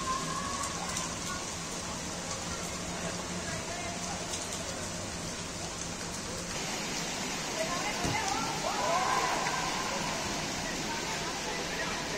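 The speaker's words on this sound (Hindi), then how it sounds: "कितनी तेज़ बारिश में बच्चे खेल रहे हैं" Heavy rain pours down in a dense, continuous roar, with faint voices and activity of children playing in the water mixed in underneath.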